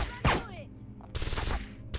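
Gunfire in Deus Ex: Invisible War after an alarm goes off: one sharp loud shot near the start, then a burst of rapid shots in the second half, with a voice briefly heard.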